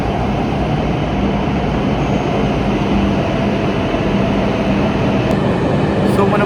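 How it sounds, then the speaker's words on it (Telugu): Japanese Shinkansen bullet train pulling into a platform, a steady loud broadband rumble and rush lasting throughout with rail noise, close and continuous. "సో ఇది మన బుల్లెట్ ట్రైన్ వస్తుంది."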